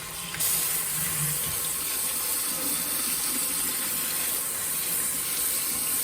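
Rice being washed in a sink under a steady, running kitchen tap, water splashing continuously over the grains at close range with no talk, ahead of cooking squash and bell peppers.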